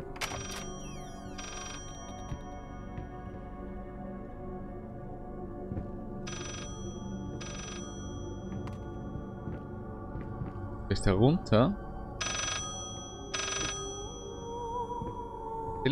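An old telephone rings in the horror game Layers of Fear, sounding in short paired bursts spread across the scene over eerie ambient music. Someone talks briefly now and then.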